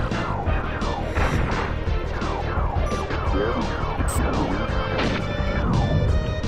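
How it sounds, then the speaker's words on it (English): Spaceship in the SNES game Star Fox repeatedly smashing into obstacles, a rapid string of loud crash and impact bursts with descending electronic sweeps, continuous and busy over game music. "I'm just crashing into everything."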